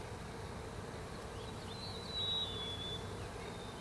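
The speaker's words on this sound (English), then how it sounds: "This hive is alive," A soft, steady hum of honey bees buzzing in a hive fills the air, with one bee's drone rising briefly and passing close by.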